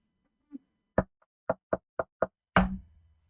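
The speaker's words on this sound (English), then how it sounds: "She'll knock a second time." Knuckles rap on a door during a tabletop game, a faint tap followed by a quick series of five crisp, evenly spaced knocks and one heavier thud, close and distinct in a quiet room.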